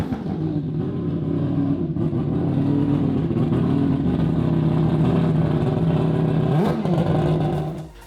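Supercars and hypercars lined up at Goodwood Festival of Speed for the hill runs, engines rumbling and revving loudly and close by in a sustained roar, with one sharp rev rising briefly near the end.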